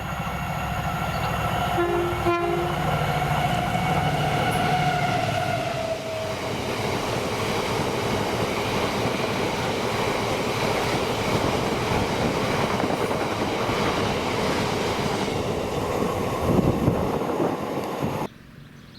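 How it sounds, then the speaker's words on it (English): A Colas Rail freight train hauled by class 70 locomotive 70802 passes Monifeith on the Oxwellmains to Aberdeen service. A brief horn is followed by a loud, sustained rumble and rolling wagon noise that continues for many seconds, close by, with no talking. "the 1057 Colas Rail Freight service to Craiginchees Aberdeen CRA from Oxelmains Lafarge Colas with"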